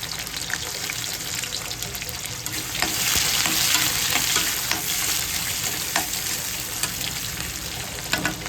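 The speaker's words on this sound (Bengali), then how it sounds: "এবার আমি পেঁয়াজ দিয়ে দেবো।" Two medium onions frying in hot oil with cumin in a home kitchen, a steady close sizzle with crackling pops and intermittent stirring scrapes that swell midway, with no talking over it.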